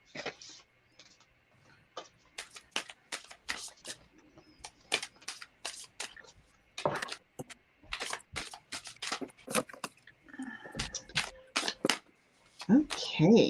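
Cards shuffled close by in quick crisp clicks and riffles, repeated in bursts with short pauses, quiet talk faintly underneath.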